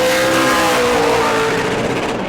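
A super late model race car on its qualifying lap at New Smyrna roars loud and close, a sustained engine howl with a slight pitch drift and no other sound.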